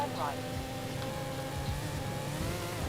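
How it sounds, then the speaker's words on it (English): Lamborghini Aventador SVJ with an upgraded exhaust in a racing video game, a steady meaty engine drone holding under continuous talk. "It sounds so much more meatier now. The exhaust makes a huge difference."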